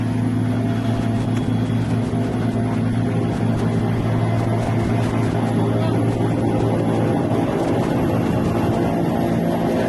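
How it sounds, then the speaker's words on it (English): A steady, loud engine roar with a low droning hum and rapid rhythmic chopping continues unbroken throughout, a military helicopter engine spooling up close by before lift-off. "We now hear the helicopter spooling up and getting ready to lift off"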